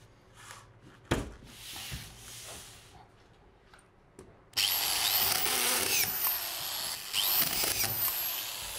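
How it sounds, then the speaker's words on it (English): A power drill drives screws through plasterboard around the edge of a wall board during room re-lining, with a few short clicks and whirs first, then a loud continuous buzzing drive with rising pitch sweeps, up close. "I'm screwing it around the outside perimeter only"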